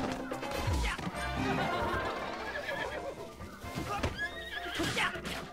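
A horse in the video game The Legend of Zelda: Breath of the Wild neighs and whinnies, with clip-clop hooves and crashing game effects over a busy, loud background of game sounds.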